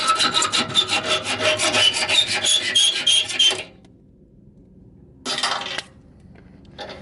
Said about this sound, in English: Look at this old school 50s hacksaw.